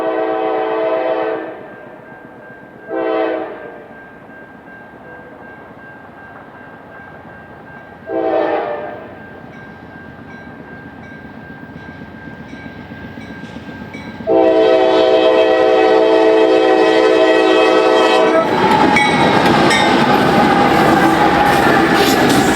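Freight train at Pine Junction sounds several horn blasts in a rising series, then a loud sustained horn chord as the train rumbles past close by, ending in heavy rolling noise.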